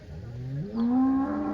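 A cow at a weekly cattle market in Chintamani lets out a single long, rising moo, loud and close, with a deep drawn-out tone that swells in the middle.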